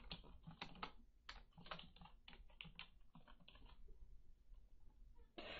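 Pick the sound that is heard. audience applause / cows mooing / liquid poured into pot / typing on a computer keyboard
typing on a computer keyboard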